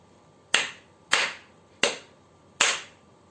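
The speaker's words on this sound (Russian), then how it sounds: "4 хлопка я сделала" Four sharp hand claps, evenly spaced about half a second apart and each ringing briefly in a quiet room, given as a counting cue in a children's math lesson.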